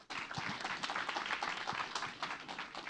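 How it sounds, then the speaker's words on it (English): An audience at a U.S. Embassy Jakarta event applauds the speaker and moderator, a dense, continuous wash of many hands clapping at once that starts abruptly and holds steady at moderate loudness throughout. "can we give a big round of applause to our speaker and moderator for today?"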